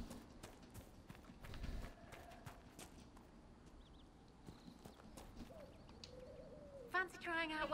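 Faint hoof clip-clops of a horse sound in Dragon Age: Inquisition, scattered and quiet against ambient game sounds and birds, ending with a louder burst near the close.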